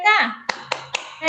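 Children clapping out the PPK rhythmic chant in a classroom, a sung or called phrase followed by three sharp, evenly spaced claps and another voice starting at the end.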